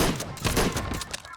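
Gunfire from a point-and-click video game: a quick run of sharp, fairly loud shot bursts over about a second and a half, with faint background sound underneath.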